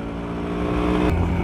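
A repaired motorcycle engine, recently out of order, runs steadily up close, its dense rumble rising slightly as it revs toward the end, with no voices.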